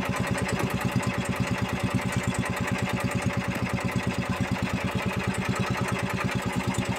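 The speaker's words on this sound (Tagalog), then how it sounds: "Huwag natin patayin ang makina kay mababaw." A small fishing boat engine chugs nearby in shallow water in a fast, even pulsing rhythm, running steadily without pause.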